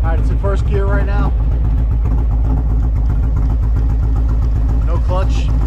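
A Harley-Davidson Touring M8 motorcycle fitted with a Rekluse auto clutch idles in first gear, a steady, close low rumble with even pulsing throughout while someone talks over it.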